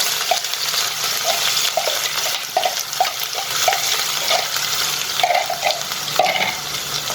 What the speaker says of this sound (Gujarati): હવે આમાં આપણે 2 ઝીણી કાપેલી ડુંગળી નાખીશું।